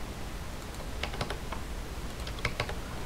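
Computer keyboard typed in quick clusters of key presses for shortcuts in FL Studio, crisp clicks close by over a soft background hiss.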